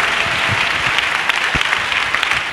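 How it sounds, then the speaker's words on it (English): An audience at a national Bible camp claps, a steady, dense burst of applause filling the space, fairly loud, with no talking over it. "Us clap for Jesus."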